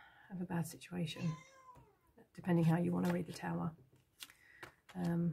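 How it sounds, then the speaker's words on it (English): A pet cat meows repeatedly in close, loud, drawn-out cries, some overlapping with someone talking nearby. "Sorry about my kitty cat."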